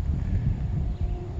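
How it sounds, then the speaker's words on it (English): Wind blows steadily outdoors ahead of an approaching storm, a low rumbling buffet against the microphone that persists throughout with no talking. "It's getting a little windy."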